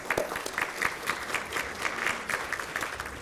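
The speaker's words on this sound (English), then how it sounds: "Let's give them a big round of applause." Audience applause at a service recognition and retirement dinner, steady clapping from a crowd sustained across the whole stretch, moderately loud and even with no voices over it.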